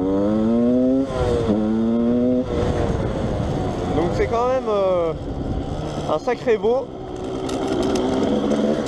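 A Yamaha DTR 125 two-stroke enduro motorcycle, weighing about 135 kg, accelerates on a trail. A sharp engine whine rises through gear changes, with throttle blips later on. A rider talks over the engine at times.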